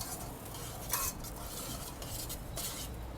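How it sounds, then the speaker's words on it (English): A spoon stirs rice cooking in a pan on a grill, making soft scraping and rubbing sounds with a couple of brief metallic clinks, faint and close. "I got me a spoon right here. Just give it a little stir."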